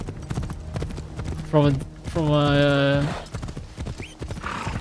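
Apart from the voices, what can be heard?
horse hooves clip-clopping in a video game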